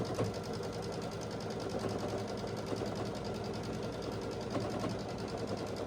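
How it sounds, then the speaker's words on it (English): A sewing machine runs steadily, stitching down the side of pinned scrappy string quilt blocks with a continuous fast mechanical whir and rattle, close and alone. "And I'll just stitch down this whole side."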